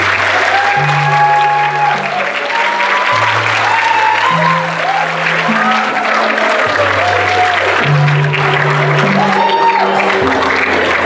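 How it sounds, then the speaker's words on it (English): Applause from an audience at a stage hypnosis show, steady crowd clapping mixed with music carrying a slow stepping bass line and melody on top, loud and continuous. "Every time they applaud, that applause is for you and it sends you down even deeper."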